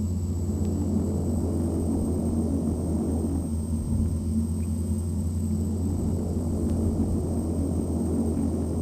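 A propeller aircraft in Flight Simulator X drones with a loud, steady engine rumble and whine, the propeller running at full and then feathered, with little audible change and no talk.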